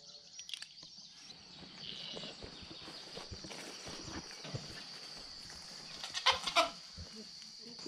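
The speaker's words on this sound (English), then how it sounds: "we let the goats out to have free range in their enclosed pen in here." Goats and chickens move about a fenced farm pen: faint hoof clops and shuffling, with soft clucks and a few sharper animal calls near the end, all heard at a low level in an open outdoor setting.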